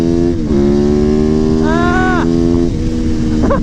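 Italian motorcycle accelerating hard, a loud harmonic engine note rising through the gears, with a brief higher whine in the middle and another quick rev near the end.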